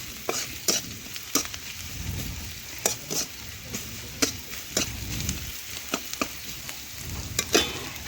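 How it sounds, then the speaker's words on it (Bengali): Two bay leaves stirred into frying onions in a pan for a chicken dish, with a steady sizzle under repeated sharp spatula scrapes and clinks at an uneven rhythm, close and fairly loud. "এটাও ভালোভাবে পেঁয়াজের সাথে মিশিয়ে নিলাম"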